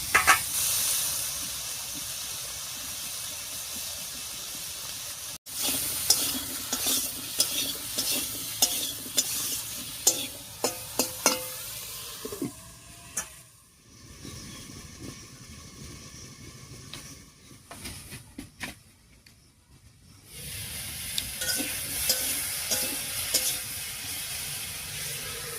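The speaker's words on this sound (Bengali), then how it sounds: "আলু আর ঝিঙেটা দিয়ে একটু নাড়িয়ে নিয়েছি।" Potato and ridge gourd pieces are stirred and fried in a pan, making a close sizzle broken by scraping and clattering stirring strokes, a sudden sharp knock, then a quieter stretch before the frying hiss returns.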